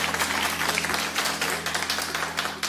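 A crowd claps steadily for a few seconds, a dense patter of many hands with a faint low hum underneath.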